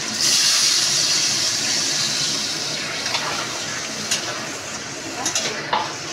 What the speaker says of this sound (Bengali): এবার এটার মধ্যেও জল অ্যাড করে দিচ্ছি।